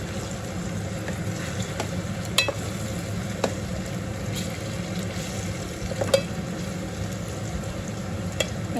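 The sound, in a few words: brinjal (eggplant) frying in oil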